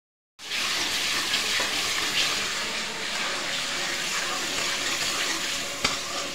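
A loud, steady sizzle starts abruptly and crackles continuously as hot oil and spices spit in a wok for a tadka tempering, close up with no talking.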